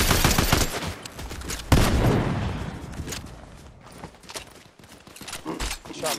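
Gunfire from a Fortnite match crackles in dense bursts and rapid volleys, loud and close at the start, with scattered shots continuing throughout as a player talks over it.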